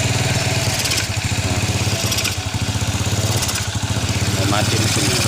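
Honda Revo motorcycle engine running close by with a steady, loud low chugging idle that wavers slightly throughout, no clear stall heard.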